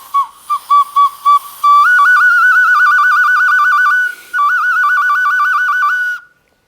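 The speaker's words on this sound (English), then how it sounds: "you're actually pretty talented with that pig whistle" A shrill terracotta pig whistle plays a warbling tune: several short toots, then long trilling notes that waver up and down, loud and close, ending abruptly.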